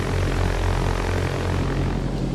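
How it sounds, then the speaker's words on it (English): A Piper Cub propeller engine runs loud and close at a steady drone in a flight simulator game, with no other sounds over it. "Very loud engines."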